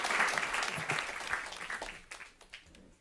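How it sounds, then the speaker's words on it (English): An audience claps enthusiastically, the applause strongest at first and then thinning out and fading over a few seconds. "Another round of applause."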